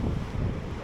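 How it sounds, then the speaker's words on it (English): Heavy wind buffeting a microphone outdoors on a seaside pier, a loud low rumbling roar with gusty fluctuations throughout the short burst. "we just have to point out it's really windy out here"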